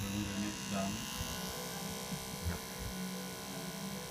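A homemade tattoo machine switched on and running, giving a steady electric buzz with a low mains-like hum throughout, and a voice faintly present over it.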